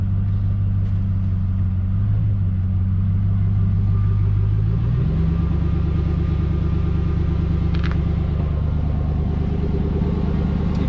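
A 2002 GMC Sierra 1500 pickup with the muffler cut off idles loud and steady while raised on jack stands. Its deep, throaty exhaust drone stays constant, and the pitch steps up briefly about halfway through as the engine revs slightly.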